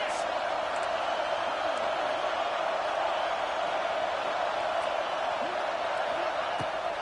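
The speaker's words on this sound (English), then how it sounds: "this crowd is making it miserable on this offense" A stadium crowd roars steadily at a Nebraska vs Pitt college football game on fourth down, a dense, continuous wash of noise with occasional shouts rising above it.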